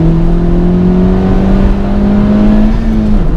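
Honda Civic Type R FK2 turbo engine pulls hard in third gear in R mode, a loud, close in-cabin drone whose tone climbs steadily and smoothly, then dips briefly at the end.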